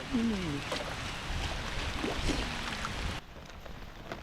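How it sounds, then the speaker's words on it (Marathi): Steady rain falls outdoors in the Konkan countryside, a dense, even patter that carries through most of the clip before dropping off abruptly near the end, with a voice speaking over it at the start. "पाऊस इलो इलो"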